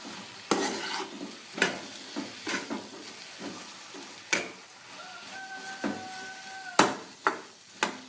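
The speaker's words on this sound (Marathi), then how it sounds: "तांदूळ तेलावरतीच परतून घ्यायचा आहे" A spoon stirs rice being roasted in oil in a pan for matar khichdi, giving sharp scraping knocks at an uneven pace over a low sizzle, close and fairly loud.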